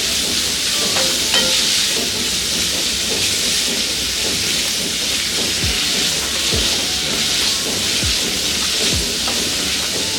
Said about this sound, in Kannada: ಅಲ್ಲಿ ತನಕ ಇದನ್ನು ಫ್ರೈ ಮಾಡ್ಕೊಳ್ಬೇಕು.